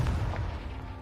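Confringo fire spell explosion in the Hogwarts Legacy video game, a single deep, rumbling boom that fades out over a second.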